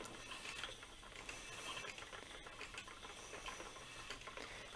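A spinning wheel runs steadily, twisting leader yarn onto its bobbin with a continuous close whirring, light clicking and hiss throughout.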